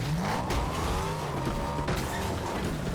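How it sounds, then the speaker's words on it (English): Engine of a car driven in the Fortnite video game, a steady continuous motor drone with tire squeal and skidding mixed in, loud and close, with no voices over it. "Ooh, I got a car."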